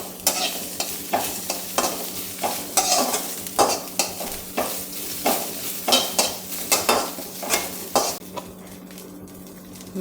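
Moringa leaves frying in a pan for a Kerala curry, loud rhythmic stirring scrapes about every half second over a continuous sizzle and low hum, no talk.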